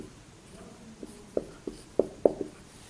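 Marker or chalk tapping and scratching on a board while numbers are written for a binary coded decimal lesson, a handful of short, fairly close ticks and strokes spread over a quiet room.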